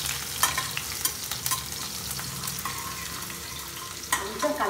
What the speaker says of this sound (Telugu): ఆవాలు కొద్దిగా చిట్టపట్లు ఆగిన తర్వాత వెల్లుల్లి వేయాలండి.